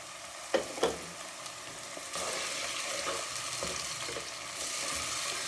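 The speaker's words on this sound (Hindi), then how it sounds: "ये 2 मीडियम टमाटर हैं, इनको मैंने पीस लिया है। ये भी इस वक्त चले जाएं इसके अंदर।" Ground tomatoes going into a pan of frying moong dal for a dhaba-style dish, a couple of splashy thumps and then loud, continuous sizzling close by, no talking.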